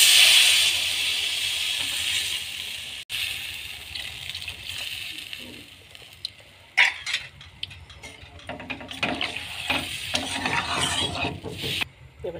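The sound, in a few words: water added to fried potato masala, simmering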